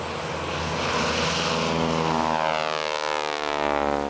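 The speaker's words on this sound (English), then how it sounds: "they were waking every morning by the sound of a plane that seems that is going to attack the town" A crop-spraying plane passes over a banana plantation, its steady propeller-engine drone loud and close throughout, with the pitch sliding slowly downward as the aircraft moves by.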